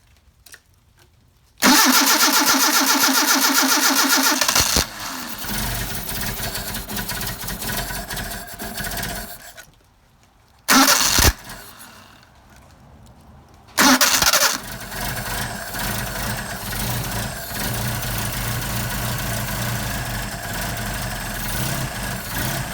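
Mercedes 190SL engine on Solex 44PHH carburetors started cold in about 40-degree weather: a loud burst of cranking and catching, a stumble and quiet gaps, then repeated restarts that settle into a steady rough idle close by.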